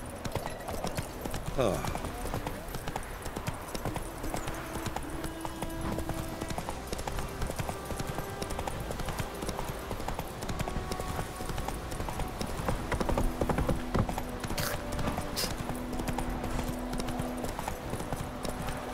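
Roach, the horse in The Witcher 3, trotting with a steady run of hoof clip-clops and a brief whinny, heard beneath occasional spoken words and game ambience.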